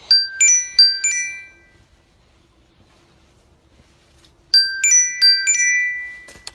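A mobile phone ringtone plays as a bright, tinkling melodic chime in two bursts, a short phrase repeated after a few seconds of silence, clear and fairly loud with no talking.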